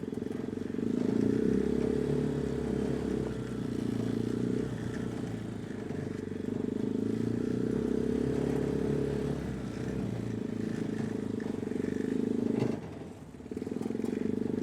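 Ukrainian-language test ride of a Dozer 250 tricycle with reverse and a tipping cargo bed. Its small engine hums steadily and close up while it drives over bumpy ground, with some clatter, a brief dip near the end, and no talk.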